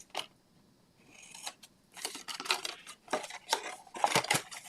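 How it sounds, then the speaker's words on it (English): Scissors cutting angled corners in paper for a Halloween craft box, close crisp snipping and rustling in irregular bursts, quiet at first and then denser, with no talking. "Now you can use your paper trimmer if you want, or you can just use your scissors."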